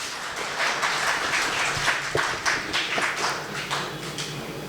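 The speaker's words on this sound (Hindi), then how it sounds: "तालियां बजा दीजिए एक बार।" An audience at a Hindi poetry recital (kavi sammelan) claps for a few seconds, a scattered mix of hand claps and taps with some louder individual strikes, no speech over it.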